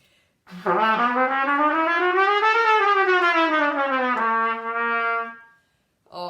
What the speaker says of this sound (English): this is how the chromatic scale sounds like